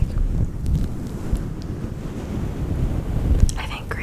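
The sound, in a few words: fuzzy microphone cover brushed, sounding like ocean waves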